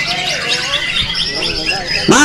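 Songbirds calling at a bird singing contest in Langensari, dense overlapping chirps and squawks, loud and close, with people talking in the background.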